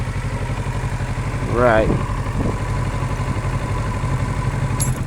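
A Kawasaki motorcycle engine idles steadily with a low, even rumble throughout, while a voice briefly speaks over it.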